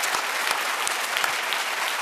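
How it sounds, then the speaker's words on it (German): Studio audience at a televised talent show applauding, a brief, even burst of many hands clapping at moderate distance with no voices over it. "da gibt es mal den ersten Applaus für den Aufwand"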